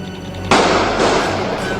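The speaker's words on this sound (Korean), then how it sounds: "이 평화로운 오후에 정적을 깨는 총소리." A single loud gunshot cracks out at a shopping mall in Nairobi, Kenya, after half a second of quiet, followed by a long echoing rumble that slowly fades.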